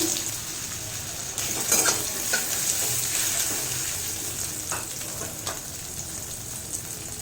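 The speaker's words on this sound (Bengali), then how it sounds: "কড়াইতে তেল দিয়ে দিয়েছি, তেল গরম হয়ে গেছে, অ্যাড করে দিচ্ছি আলু" Potatoes fry in hot oil in a kadai, making a continuous close sizzling hiss with brief crackling bursts as they settle in the oil.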